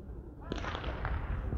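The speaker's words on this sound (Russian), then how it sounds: "Дан старт, выстрел." A single sharp starting pistol crack outdoors at a men's 200m final in Yakutsk, followed by crowd noise and general commotion in the background.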